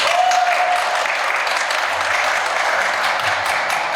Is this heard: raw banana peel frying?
no